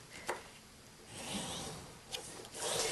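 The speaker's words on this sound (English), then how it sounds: "Now using my bone folder, I'm going to crease along the folds." Bone folder creasing scored card stock along fold lines, giving soft rubbing and scraping strokes with a couple of brief sharper scrapes, close and quiet with no talking.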